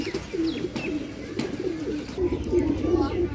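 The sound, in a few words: pigeons cooing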